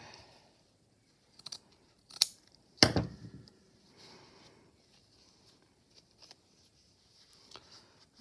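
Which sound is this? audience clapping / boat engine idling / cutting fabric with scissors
cutting fabric with scissors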